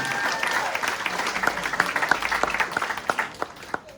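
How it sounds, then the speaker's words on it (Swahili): A small crowd at a land title deed handover claps for an investor, a brief burst of scattered, individually distinct hand claps that thins out over a few seconds, fairly close. "Mpigiane makofi tafadhali"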